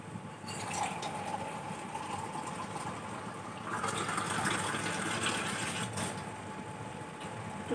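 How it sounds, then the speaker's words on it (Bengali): Water poured into a cooking pot on the stove, a steady splashing gush that swells louder midway, then eases, close with no talking. "জল দিয়ে দিচ্ছি।"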